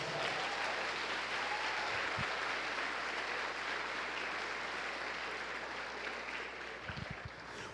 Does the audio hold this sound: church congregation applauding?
yes